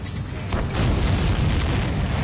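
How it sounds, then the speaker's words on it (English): Missiles blowing apart in a video game, a continuous dense rumble of explosions that swells after the first half second and stays loud and broad to the end. "All of the missiles have been destroyed."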